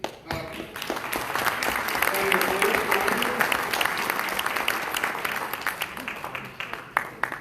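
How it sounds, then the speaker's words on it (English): Audience applause at a family night gala, swelling from a few claps into a full round of clapping that stays strong before thinning out near the end, with faint voices underneath. "How about a big round of applause just for that?"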